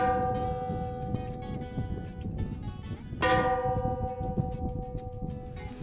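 A bell rings out at a pear farm in southern Brazil, sustained metallic tones hanging in the air, then a fresh louder strike about three seconds in that rings on and slowly decays.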